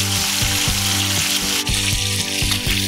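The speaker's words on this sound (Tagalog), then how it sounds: "nabaliktad na natin yung ating prito" Fish frying in a pan of hot oil, giving a loud, steady sizzle with crackling pops and soft rhythmic ticks throughout, close up and alone.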